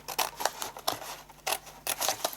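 Scissors cutting straight through paper for a gift box, heard as about six short, crisp snips in quick irregular succession, close and clear with no talk.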